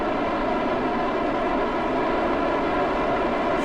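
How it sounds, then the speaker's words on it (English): Loud, steady roar of rocket engines in Kerbal Space Program, a dense broadband rumble that holds without letup for the whole stretch. "Sorry about the sound on these engines. They're really fucking loud"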